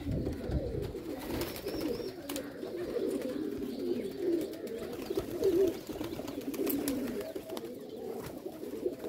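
Pigeons coo in low, repeated throaty phrases on a rooftop loft of flying pigeons, steady and close with soft background noise and no talk.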